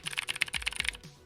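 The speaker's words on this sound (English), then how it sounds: "My favorite is this one, which is also an Ergodox, but it has different keys in it, different switches in it." A loud Ergodox split keyboard with different switches, typed on in a fast, close run of sharp, bright clacks with a few firmer bottom-outs, ending in a brief pause.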